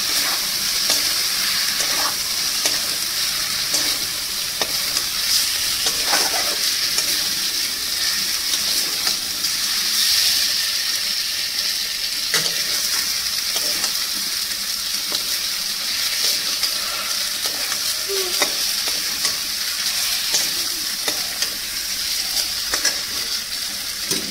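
A spoon stirs catla fish curry masala as it fries in a kadai, with a loud, steady sizzle from start to finish and soft scraping strokes beneath it.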